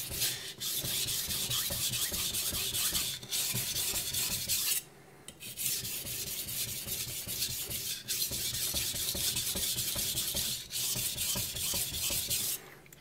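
A steel blade is worked back and forth across a new 1000 grit Chinese whetstone, giving a steady, loud wet rasping scrape in long continuous strokes with a few brief pauses, close up and with no talking.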